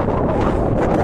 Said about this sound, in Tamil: காற்று அடிக்கிறது பயங்கரம்.